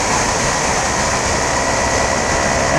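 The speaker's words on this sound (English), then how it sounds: "And you can hear my pump running." A steady, loud mechanical hum and whir of a vacuum pump running continuously to simulate engine vacuum while testing a Cadillac climate control unit, broadband and unchanging, with no voices.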